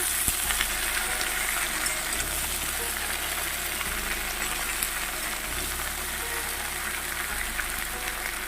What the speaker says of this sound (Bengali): এবার সুন্দর করে নেড়ে চেড়ে নেবো